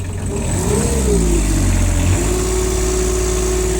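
An excavator engine revs up from idle, climbing in pitch to a peak before settling back to a steady, even hum, loud and close with a constant low rumble underneath.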